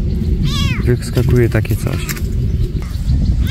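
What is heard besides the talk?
cat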